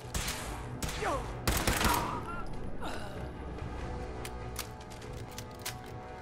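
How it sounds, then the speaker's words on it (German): A pipe pistol fires in Fallout 4, with a burst of sharp gunshots and clattering mechanical noise at the start, then lighter scattered clicks and thuds over a busy game background. "Scheiß Impro-Pistole."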